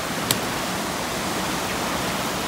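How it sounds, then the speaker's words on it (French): A waterfall roars in a steady, dense wash of falling water that fills the scene evenly from start to finish, with no voices over it. "C'est vraiment une super cascade."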